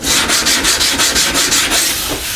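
Rhythmic back-and-forth hand sanding of cured body filler with 80 grit sandpaper, close and loud, a steady run of about ten rasping strokes with no talk.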